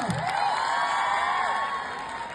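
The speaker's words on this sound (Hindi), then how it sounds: "बार बार तालियां और एक बार और" Audience at a stage performance cheers, whoops and shouts in a steady, continuous roar, a lively crowd sound with applause mixed in and no pause.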